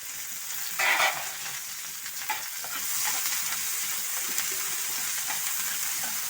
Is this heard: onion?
yes